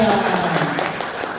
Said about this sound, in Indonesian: Tepuk tangan buat teman-teman saya.